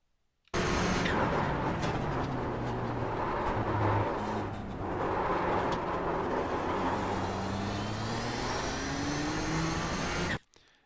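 A Nissan GTP ZX-T race car laps Zandvoort in the iRacing simulator, its engine roaring continuously with pitch rising and falling through gear changes and corners, loud and close, briefly dipping mid-lap.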